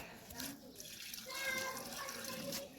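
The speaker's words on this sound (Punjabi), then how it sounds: "ਹੁਣ ਗਮਲੇ 'ਚ ਪਾਣੀ ਪਾਉਣਾ ਆਪਾਂ ਥੋੜੇ ਥੋੜੇ ਜਿਹਾ ਪਾ ਦਾਂਗੇ" Water poured a little at a time into a plant pot, a steady close trickling splash lasting throughout with faint background noise.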